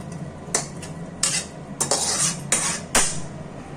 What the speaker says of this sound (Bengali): এখন আমি প্রেসারে মাংসগুলো দিয়ে দিচ্ছি।